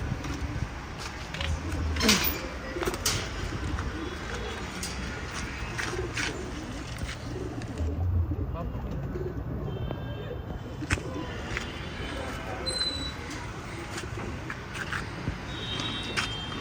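Pigeons kept for flying coo softly off and on against a steady outdoor background with occasional sharp clicks and distant traffic, while someone talks through most of it.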